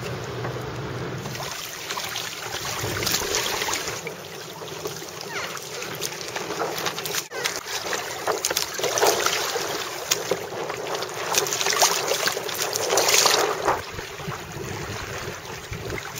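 Steady wind rushes and buffets across a sailboat racing through a fishing fleet in the middle of the Chesapeake, with water swishing against the hull and gusts rising and falling throughout.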